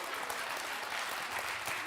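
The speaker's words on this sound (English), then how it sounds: "Let's give him a round of applause." Dense, even applause from a group of people, steady clapping with no voices standing out.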